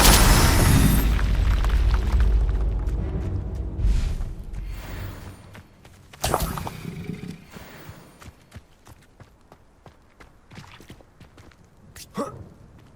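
Confringo fire spells exploding in Hogwarts Legacy, a loud blast at the start followed by scattered sharper bursts and thuds, with hoofbeats and game sounds trailing off between them.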